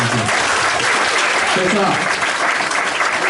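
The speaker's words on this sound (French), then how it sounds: "Je veux qu'on applaudisse nos parents." A crowd of parents applauds at a gathering, dense clapping filling the whole moment at close range with a brief voice speaking over it.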